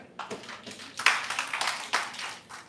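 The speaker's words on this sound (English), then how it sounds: "Let's give a big round of applause for her." An audience claps in a short burst of applause, a fairly close patter of many hands that rises and falls over a few seconds, with no talking.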